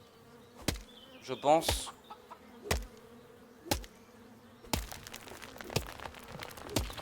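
Bees buzz in a video game, a thin droning hum running under a series of sharp clicks and brief cartoonish effects, with a quiet voice speaking briefly.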